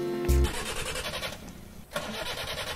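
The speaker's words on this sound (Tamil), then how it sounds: "இன்ஜின் ஆனா இருக்கான்னு பக்கத்துல போய் காத வச்சு கேட்டாதான் தெரியும் போல இருக்கு" A car engine starts with a brief loud crank and then settles into a low, quiet idle hum.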